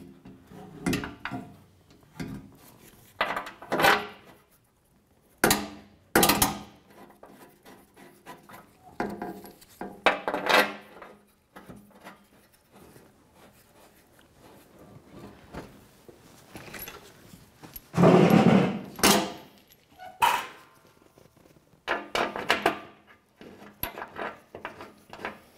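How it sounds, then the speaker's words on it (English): Mounting bolts being started by hand on the skid shield of a 2004-2015 Nissan Titan, a string of irregular metallic clunks, scrapes and rattles close by, with a louder cluster of knocks near the end. "Start in all four of your forward mounting bolts."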